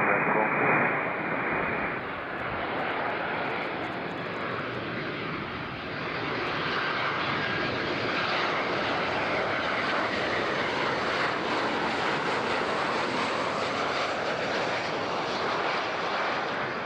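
A fixed-wing airliner landing on runway 14 at Zurich airport gives a loud, steady jet engine roar that fills the whole stretch, with broad rushing noise and faint radio chatter in the background.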